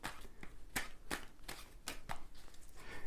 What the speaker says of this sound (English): I'm going to shuffle them just a little bit more here.